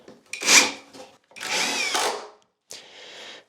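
A power drill drives 2.5-inch screws into the wooden slats of a DIY twin bed frame, making three short, close whirring bursts separated by brief pauses, with no talking.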